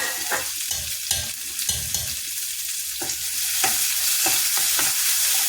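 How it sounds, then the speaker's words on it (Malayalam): Small onions fry in a pan for curry, a continuous close sizzle with repeated scraping and stirring clicks from a utensil, steady and fairly loud. "നന്നായിട്ട് ചെറിയ ഉള്ളി ഇട്ട് കൊടുക്കണം."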